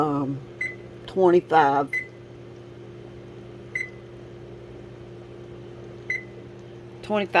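A kitchen timer on a stove gives short single beeps at intervals while being set, with a person speaking briefly over a steady background hum.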